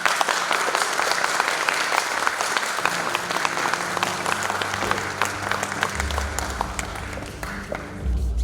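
Steady applause from a large audience at a school graduation ceremony in Rogaška Slatina, dense clapping filling the hall throughout, with a low hum joining near the end.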